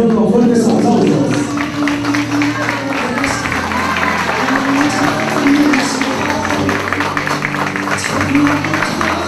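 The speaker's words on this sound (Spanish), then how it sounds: "recibimos entonces a los padrinos de la promoción con fuertes aplausos" Applause at a school graduation ceremony welcoming the class sponsors, a steady spread of clapping and crowd murmur under sustained musical tones and voices, moderately loud and continuous.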